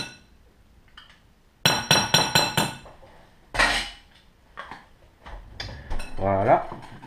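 A spoon mixes rouille with a touch of mustard in a bowl, giving a burst of quick clinking scrapes followed by irregular knocks and stirring sounds, close and fairly loud, with brief voice sounds near the end.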